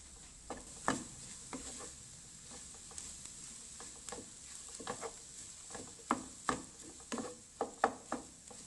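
Egg filling being stirred in a pan with the heat switched off: soft, scattered scraping and light clinks of a utensil against the pan, faint and irregular, with no talking.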